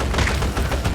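Rapid gunfire in the video game Cleared Hot fills a single second with dense overlapping bursts of shots and booms, loud and continuous.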